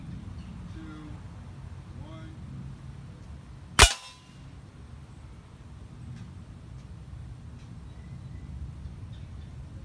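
A Daisy Powerline air gun fires a single penetrator pellet, one sharp, loud crack that fades quickly into quiet background noise.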